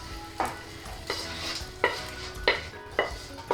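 Bacon fries quietly in a pan under a soft sizzle, broken by regular scraping strokes of a utensil roughly every two-thirds of a second.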